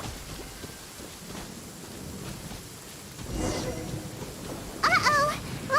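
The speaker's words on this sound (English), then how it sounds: "Uh-oh! Lightning storm!" Rain and rolling thunder from a lightning storm in the video game Genshin Impact, a steady wash of rainfall with a louder rumbling swell midway and sharp crackling bursts near the end.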